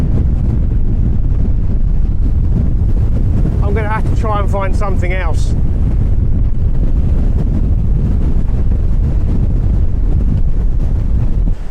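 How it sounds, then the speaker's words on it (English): A strong gale on a sea wall batters the microphone with constant loud, rumbling wind noise throughout, while someone speaks briefly partway through. "It's just blowing a gale."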